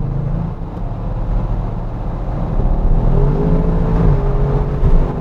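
A 2020 Audi RS6 Avant, a 600 hp four-wheel-drive wagon, accelerates from inside the cabin with a loud, steady engine drone rising in pitch through the gears.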